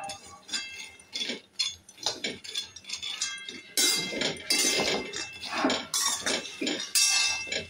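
Nuts being dry-roasted in a wok and stirred, with repeated clinks and scrapes of a utensil against the metal pan, busier and louder in the second half, with no voices.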